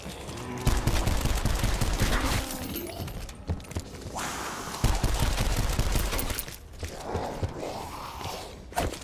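Video game gunfire comes in dense bursts of rapid shots, loud and close, with brief pauses and sharp cracks between them.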